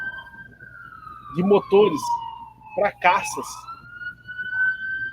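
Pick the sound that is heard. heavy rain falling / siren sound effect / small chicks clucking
siren sound effect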